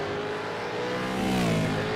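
V8 Supercars race cars on track during a practice session roar past with a high engine drone that swells and climbs in pitch as a car accelerates closer, loud and continuous, with no talk.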